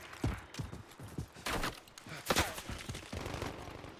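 Rapid bursts of gunfire in Call of Duty: Modern Warfare 3 multiplayer on the Estate map, sharp cracks and volleys close by in irregular clusters, with brief voices mixed in.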